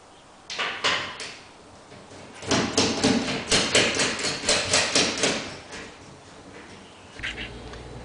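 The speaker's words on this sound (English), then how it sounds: "This will allow us to roll the door sections off this end of the track and take them down." Garage door sections rolled off the end of their track and lifted down, bursts of metallic rattling, clanking and rumbling rollers, loud and close, with pauses between and no talking.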